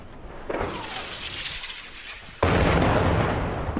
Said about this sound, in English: Round whizzes over.